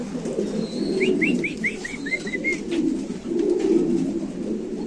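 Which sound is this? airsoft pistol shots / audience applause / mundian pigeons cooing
mundian pigeons cooing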